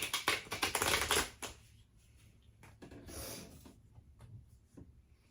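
Tarot cards being shuffled by hand, a quick run of crisp riffling card flutters up close, then a quieter stretch of a few soft slides and taps as cards settle.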